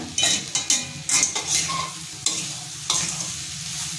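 Spoon stirring sugar through a drumstick vegetable curry in a pan, several scraping strokes with a soft sizzle underneath, close and fairly loud, no voices.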